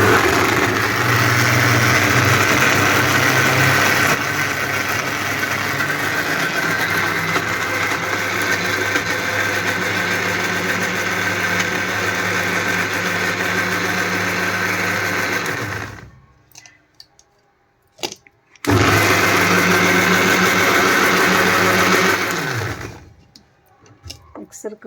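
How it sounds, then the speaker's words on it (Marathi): An electric mixer grinder whirs loudly and steadily while blending tamarind chutney, running in long bursts with a brief stop and restart, then cutting off near the end. "मिक्सर करण्यात येत आहे."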